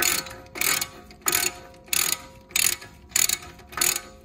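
Hand ratchet loosening the brake caliper bolts on a 2018–2021 BMW X3 during a rotor replacement, heard as seven close, even bursts of rapid clicking roughly every half second, with no talk.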